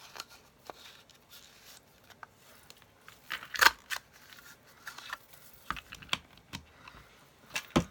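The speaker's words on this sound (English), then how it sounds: "I'm just going to punch the top." A paper punch cutting through the top of a 2-inch strip of paper for a Christmas tag, giving faint crisp clicks and crunches with a louder snap in the middle, close and quiet amid small handling rustles.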